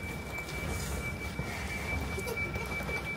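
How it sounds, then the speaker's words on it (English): A train idles at a London station platform, a steady low rumble with a faint high whine running throughout, moderately distant with light platform ambience and no talking. "Train on the platform."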